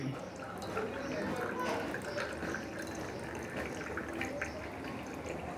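Plain water is poured steadily into a glass around a burning candle, giving a continuous close trickle and splash with a few drips, and no words are spoken.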